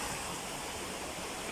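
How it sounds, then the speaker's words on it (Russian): A swollen river after heavy rain rushes past in a steady, loud, broadband roar of flowing water, constant throughout with no voices. "Какой поток воды."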